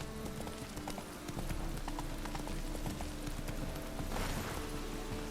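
Horse Roach's hooves clip-clop steadily in The Witcher 3 game, a continuous rhythmic trot over ambient game background, fairly close and moderately loud throughout.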